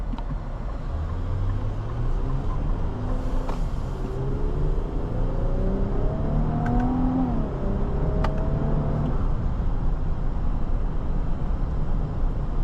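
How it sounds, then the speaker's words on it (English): Twin turbo V6 engine of a 2027 Infiniti QX80 Sport, heard from inside while driving: a steady low drone with a rising pitch sweep as it revs up and eases off, continuous throughout. "That V6 sounds good."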